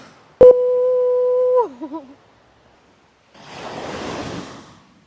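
A single sea wave washes in at a Lakshadweep beach, a soft rushing surge lasting about a second. It follows a loud sustained tone that wavers and drops away.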